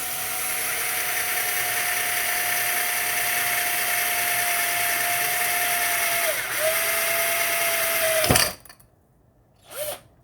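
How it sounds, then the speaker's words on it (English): A power drill bores a vent hole through the edge of a homemade alcohol lamp, a steady whine running for about eight seconds, dipping briefly midway as the bit bites, then cutting off with one short final burst. "you might want to drill a vent hole inside"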